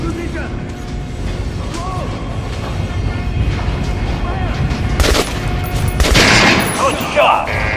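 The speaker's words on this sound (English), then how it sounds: "Try shooting from the center of the regular dummy's chest." Guns fire at targets on a shooting range in Metro Last Light, with scattered shots and a heavier burst near the end, all under continuous loud background noise while a voice talks.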